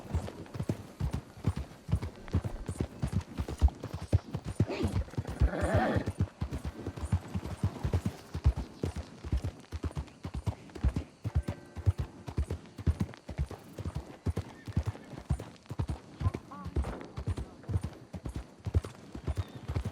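Horse hooves clop at a steady trotting rhythm throughout, loud and close, in the Red Dead Redemption 2 video game, with a brief whinny rising around the middle of the passage.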